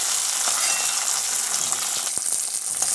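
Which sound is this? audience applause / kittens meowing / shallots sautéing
shallots sautéing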